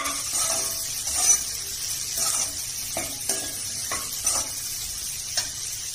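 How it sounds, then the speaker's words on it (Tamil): Okra masala sautéing in a pan on the stove, a steady soft sizzle of oil with repeated scraping stirs of the spoon throughout, close and alone with no talk. "அஞ்சு நிமிஷம் வதக்கணும் நல்லா."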